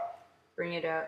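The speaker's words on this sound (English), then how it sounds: "sorry if you hear my dog in the background" A dog barks twice in the background, a brief pair of yelps closely following a man's short remark, in a quiet room.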